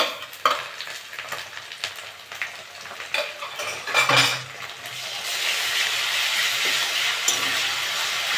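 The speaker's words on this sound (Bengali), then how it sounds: "আদা রসুনটা একটু ভেজে দেবো" Ginger-garlic paste fries in a pan with softened onions for an aloo dum, a steady close sizzle building under sharp metal spoon scrapes and clinks against the pan, with no talk.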